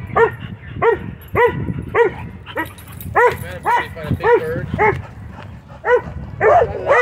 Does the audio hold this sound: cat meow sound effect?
no